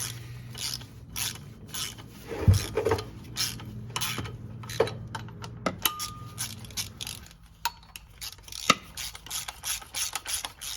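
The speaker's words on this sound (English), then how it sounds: "I'm gonna get them snug down and then we're gonna torque them." A ratchet wrench snugs down 19 mm bolts on a BMW E30 with an M20 engine, producing close bursts of rapid metallic clicks with occasional scrapes and clinks between them.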